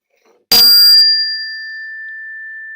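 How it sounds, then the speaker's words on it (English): A meditation gong is struck once to open a silent prayer session, giving a sudden bright clang that settles into a long, clear ringing tone, fading slowly on its own. "when rung a second time, the gong will end the meditation"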